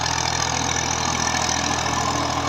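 Steady, loud diesel chugging comes from a 2000 Massey Ferguson 240 tractor working a nine-tine cultivator under load on farmland in Punjab, Pakistan, close by and unbroken, with no voices.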